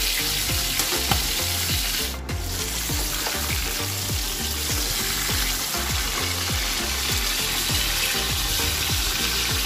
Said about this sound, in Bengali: দেখুন, অল্প অল্প করে ভেজে আমি তুলে রাখছি। একইভাবে সব মাছের পিসগুলিকে আমি ভেজে নিচ্ছি।